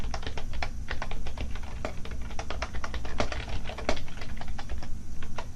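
Fingers type on a computer keyboard in quick, uneven bursts of crisp key clicks with brief pauses, close up, alone without any voice.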